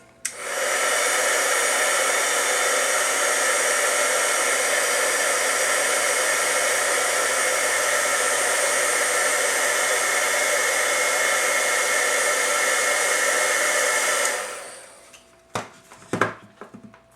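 A heat tool blows steadily to melt clear embossing powder, giving a loud, even whirring hiss for about fourteen seconds before it winds down, followed by a few small clicks and handling knocks.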